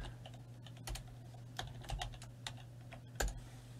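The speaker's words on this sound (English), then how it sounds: "I'll just type" Typing on a computer keyboard, a short run of soft irregular key clicks over a faint steady hum, quiet and close with no talk.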